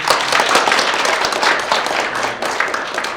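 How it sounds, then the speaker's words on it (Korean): Audience applause at the opening ceremony of the fifth AMP class, a dense, steady wash of many hands clapping close by that fills the whole stretch without pause. "박수 한번 보내주세요"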